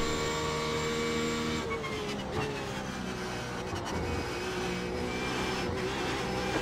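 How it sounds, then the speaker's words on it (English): Porsche 911 RSR GTE race car engine in the iRacing sim at the Nürburgring, a loud continuous high-revving drone with shifting pitch as it accelerates and changes gears, steady throughout with no talk. "Are you staying silent because you want to hear the engine?"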